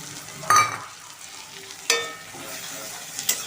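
Garlic, ginger and dried chilli paste frying in hot oil for a Bengali bombay duck dish, a close sizzle with sharp bursts as the paste hits the pan and spatula strokes, no talking.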